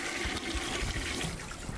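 A toilet flushes in a Skibidi Toilet animation, a short steady rush of water with a faint trickle, loud and alone throughout.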